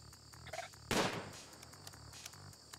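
A single gunshot in the video game Rimworld, one sharp near crack followed by a short decaying tail, over a quiet bed of soft game ambience and faint ticking effects.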